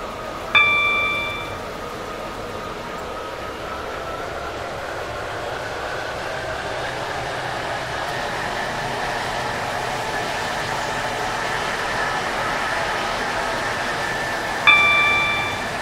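A train runs in the Stepford County Railway video game with a steady rolling rumble and rising whine, marked by a chime near the start and again near the end.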